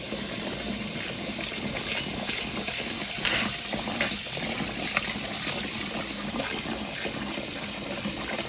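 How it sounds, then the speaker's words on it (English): Rice being rinsed with water in a pot: an even, close rush of running and splashing water that continues throughout, with no voices. "So you want to rinse your rice probably 3 times"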